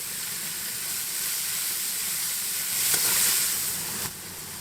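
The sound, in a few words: carrots, capsicum, onion and broccoli frying in a pan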